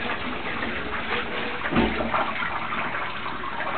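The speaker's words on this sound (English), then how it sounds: "Now here I have the shower spray unit, which is convenient for rinsing it." A handheld shower spray rinses a plastic fan cage in a bathroom, giving a steady, close hiss of running water with splashing that continues throughout, no voices.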